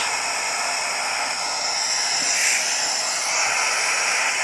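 A floor steamer set to high runs over carpet, giving a steady, broadband hiss of escaping steam that holds at an even level throughout, with no voices.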